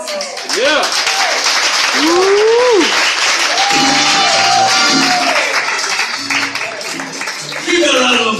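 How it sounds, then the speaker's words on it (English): Audience at a poetry performance applauding with sustained clapping and some cheers and whoops rising above it; a voice speaks over the applause. "Keep a round of applause going for Blanca Alanis."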